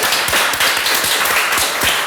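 Studio audience applauding a guest on a television talk show, a loud, dense, continuous wash of clapping from many hands that holds steady throughout.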